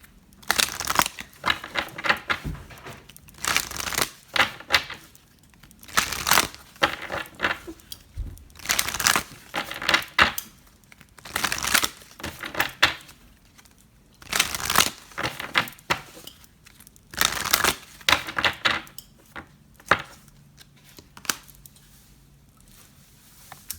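Tarot cards being shuffled for a Libra love reading, a crisp papery riffling and snapping in repeated bursts with short pauses between them, close and fairly loud, with no voices.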